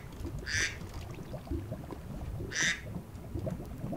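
Two short duck quacks from the video game Minecraft, spaced about two seconds apart over a low steady game background, fairly faint.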